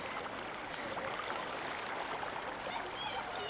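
Creek water flowing steadily through a wide, deep creek bed at Great Sand Dunes National Park, a continuous close rushing wash with no voices.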